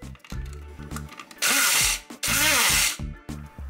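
Electric coffee grinder grinding coffee beans for French press coffee, two loud whirring bursts of about half a second each, close by, with short quieter gaps and rattling between them.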